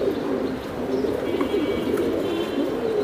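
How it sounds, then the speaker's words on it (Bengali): Damascene pigeons cooing at a farm, repeated soft, rolling low coos close by, with faint background chatter and rustling. "অনেক সুন্দর দামাসিন কবুতর"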